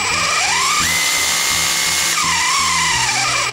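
A Parkside Performance PKHAP 20-Li A1 cordless SDS hammer drill runs at maximum speed, a loud, steady high-pitched whine with its motor pitch sliding up and down close by, no talk.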